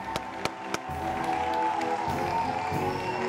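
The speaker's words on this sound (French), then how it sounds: "on applaudit pour lui." A studio audience on a French television show claps, starting with a few sharp isolated claps and swelling into sustained applause mixed with crowd noise.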